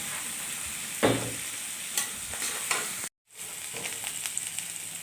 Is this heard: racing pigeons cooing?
no